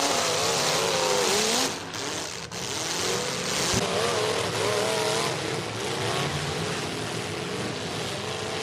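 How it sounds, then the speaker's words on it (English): A demolition derby car's engine revs hard at a dirt track, a loud, sustained roar that swells and dips steadily throughout, with a brief drop partway before climbing back, close and unbroken. "You see that power in that motor, Steve. He just fires across."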